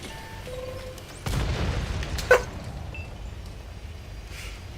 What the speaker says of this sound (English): I think I penned a high explosive round into his cupola